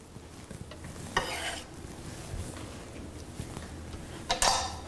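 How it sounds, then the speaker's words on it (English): Onions scooped into a porcelain-lined cast iron Dutch oven, with two bursts of scraping and rustling against the pot and light clinks between quiet stretches. "I'm just going to scoop my onions into here as well"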